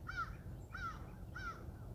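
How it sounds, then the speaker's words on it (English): A crow caws three times overhead, evenly spaced harsh calls at moderate distance over a low rumble of outdoor background noise. "I can't get that bird that's flying."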